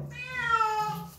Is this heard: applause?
no